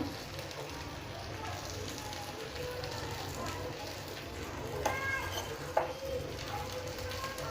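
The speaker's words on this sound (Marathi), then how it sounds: "त्याच्याने काय होतं चांगले आपले हे पनीर टिक्का मस्त असा फ्राय होतो" Paneer tikka frying in butter, restaurant style, giving a steady soft sizzle throughout with faint background noise and a couple of brief clicks near the end.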